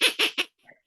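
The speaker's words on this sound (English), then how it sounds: "The vintage Mighty Ducks quacker, usually for special occasions." A vintage Mighty Ducks toy duck quacker gives three quick, loud, nasal quacks in a row, followed by a faint trailing sound, with no talking.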